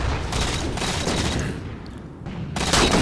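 Rapid automatic gunfire rattles loud and close in Halo 4 on the map Adrift, in dense overlapping bursts that pause briefly before a final heavy volley, with no talk over it.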